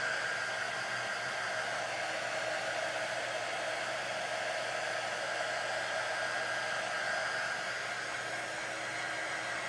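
A hair dryer blows steadily to dry paint on a jar cutout, a constant close whooshing hum with no pauses.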